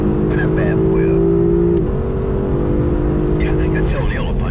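A Lexus LC 500 at full throttle on a race track in pouring rain, its engine holding a steady high rising note up close, then easing and roaring again, with speech heard through.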